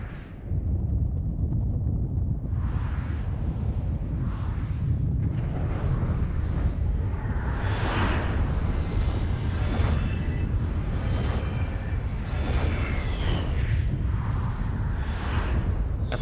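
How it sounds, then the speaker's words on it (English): Fireworks in Final Fantasy XIV: a string of booming bursts and whooshing crackles, loud and dense, overlapping one after another over a heavy low rumble for about sixteen seconds. "let's enjoy the fireworks"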